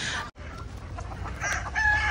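Free-range country chickens on a 3000-bird poultry farm cluck busily up close, a rooster crowing within the flock's steady, overlapping calls.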